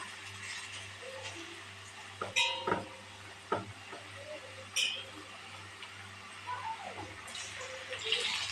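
Wheat flour pakoda fries in hot oil with a soft, steady sizzle and bubbling, quiet and close, with a few sharper clicks and scrapes along the way.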